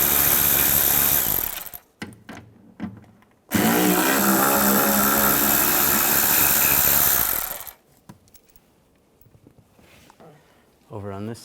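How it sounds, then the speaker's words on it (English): A power tool with a T30 socket spins out screws from a 2007-2013 Mini Cooper door, giving a loud whirring burst near the start and a longer four-second run, close and alone, with quieter handling noises after. "take these two screws out"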